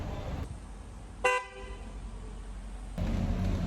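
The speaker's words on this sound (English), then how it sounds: "Someone's always got to honk in your video." A car horn gives one short honk amid steady traffic noise, fairly close, while engines rumble before and after it.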